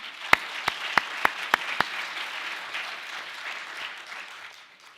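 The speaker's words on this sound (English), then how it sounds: "please join me in giving them a round of applause" Audience applause at a community development symposium plenary, a few loud near claps up front followed by a broad, fading crowd clapping.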